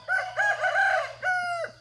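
A rooster crows loudly and close by, one long drawn-out call followed by a shorter second call, heard alone with no talk over it.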